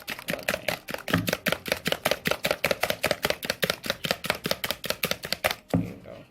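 Eggs are beaten for egg fried rice with a quick, steady run of about two dozen sharp taps against the bowl, up close and loud, stopping abruptly before one last knock.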